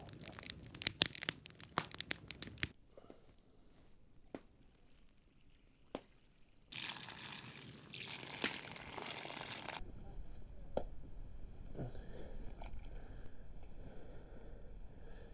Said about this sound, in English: So I'm going to soak it one more time in fresh water, get rid of that water, to give it a second rinse